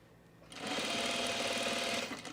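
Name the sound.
sewing machine stitching blazer fabric with weft interfacing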